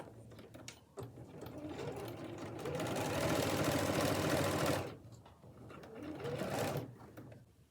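A sewing machine top stitches the tie channel of an adjustable apron, running in a steady, close mechanical whirr that speeds up, pauses briefly, then runs again.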